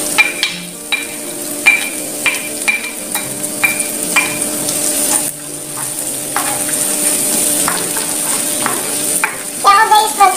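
Chopped onion sizzling steadily in a hot pan while a utensil stirs and scrapes it in repeated clinks, cooked for a creamy penne pasta with sardines, with a brief louder sizzle burst at the end.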